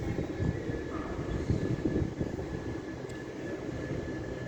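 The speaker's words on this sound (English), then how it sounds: "coming in on platform 8 will be an LNER service" An LNER train pulls into platform 8 at Doncaster on the East Coast Main Line, a steady low rumble with rolling wheel and engine noise that builds slightly and then holds, fairly distant, with no voices.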